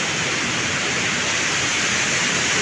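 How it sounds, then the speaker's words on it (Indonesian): Waterfall in a forest pouring with a steady, dense broadband roar that stays constant and close, with no voices heard. "sekarang saya berada di air terjun Kokoy ya"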